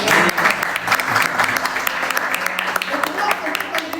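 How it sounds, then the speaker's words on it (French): An audience bursts into applause, a dense, loud wash of clapping that runs steadily throughout, with voices mixed in beneath it. "on applaudit pour ça"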